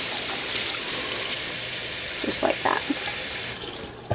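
Hot water running from a tap over thawed frozen tomatoes in a sink, a steady loud close gush with brief splashy changes as the stream hits the fruit, a few words spoken over it.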